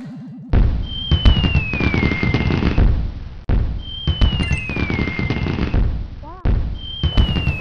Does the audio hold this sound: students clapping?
no